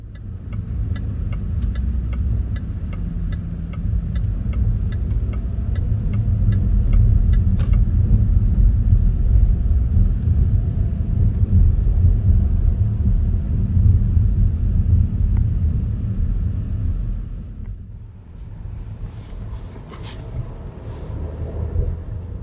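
A car drives along Waine'e Street through the Lahaina burn zone on Maui, its steady road rumble and tire noise loud and continuous, easing off briefly toward the end.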